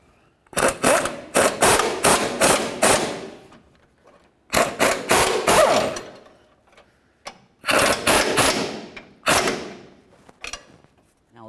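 A ratchet spins nuts onto an idler arm bracket on a 1999-2007 Chevy Silverado, in close, loud rapid clicking runs separated by short pauses.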